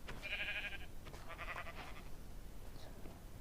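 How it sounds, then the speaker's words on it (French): A sheep bleats in Minecraft survival, two short nasal calls in quick succession followed by a faint third, over a steady low background. "Oh, un mouton."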